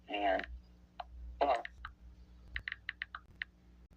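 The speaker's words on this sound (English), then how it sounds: "don't mind my typing. I'm really bad." Someone types on a computer keyboard with scattered, uneven clicks in short bursts, close and fairly crisp, and a voice is briefly heard near the start.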